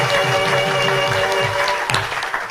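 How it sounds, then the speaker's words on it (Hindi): Studio audience on a morning television talk show claps together, a close, loud and steady wash of applause that carries on without a break, with no voices over it. "इनके लिए तालियां जी"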